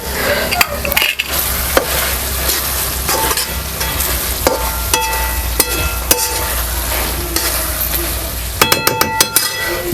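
Vegetable biryani with fried onion, mint and coriander being stirred in a hot pan, a steady sizzle under repeated scraping and clinking of a metal spoon against the pot, louder clatters near the end.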